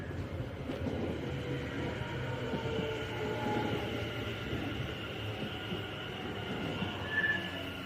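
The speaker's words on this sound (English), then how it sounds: "it's the 16:08 West Midlands Railway service from Wolverhampton to Walsall." A West Midlands Railway passenger train running from Wolverhampton to Walsall passes through Aston station, giving a steady, fairly close rumble of wheels and traction that holds throughout, with a brief higher squeal near the end.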